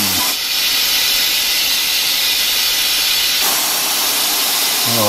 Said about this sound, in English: I'm only going to open this up very little bit We've got the air coming out.